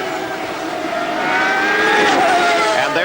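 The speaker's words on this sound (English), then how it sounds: "Listen to Arie as he accelerates up the hill now." A 1989 CART race car accelerates up the hill at Laguna Seca, its engine note rising in pitch from mid-distance, with a commentator talking over it.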